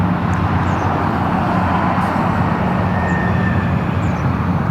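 An RAF Airbus A330 at Newcastle International Airport gives a loud, steady, broadband jet roar that holds evenly throughout without talk.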